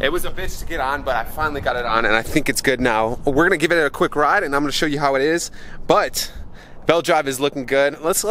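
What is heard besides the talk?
No everyday noise stands out behind the speech.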